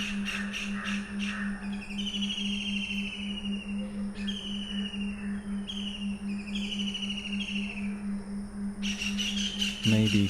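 Birds chirping and calling outdoors, with high twittering phrases and falling whistles repeating over a steady background hum and a dense chorus of activity.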